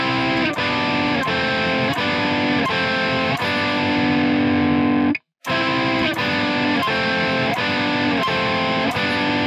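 A distorted electric guitar plays a folk metal riff in harmonized thirds, loud and dense with steady picked rhythm. It cuts out briefly near the middle, then the phrase repeats.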